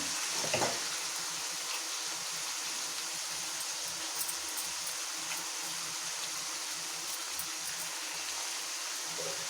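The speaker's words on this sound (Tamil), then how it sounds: "வெங்காயம் நல்லா வதங்கட்டும்" Four large onions fry in oil for a mutton curry, giving a continuous dense sizzle throughout with a brief clatter of stirring at the start.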